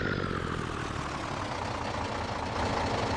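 A truck engine in the farming game Farming Simulator 22 drones steadily, loud and close, with a constant low rumble and broadband roar throughout and no speech.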